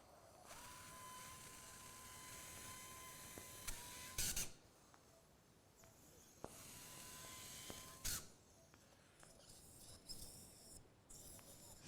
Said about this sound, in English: See, I am drilling away this bone.